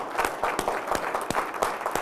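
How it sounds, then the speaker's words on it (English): A room of Rotarians claps for themselves in a round of applause, a brisk, fairly loud patter of many hands with sharp individual claps standing out throughout. "can I ask you to give yourselves a round of applause?"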